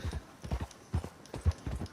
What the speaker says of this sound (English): Stop riding fast, Skylar.